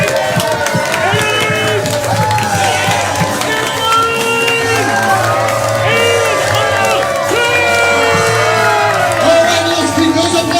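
A crowd at a live main event cheers, hoots and whoops over sustained applause, with many overlapping shouts and rising and falling voices filling the room for about ten seconds.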